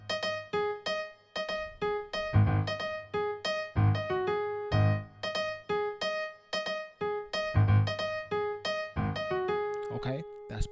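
Piano playing part one of a song at full tempo, a steady run of clear, repeated chords and melody notes with a punchy rhythmic bass, played alone with no talking.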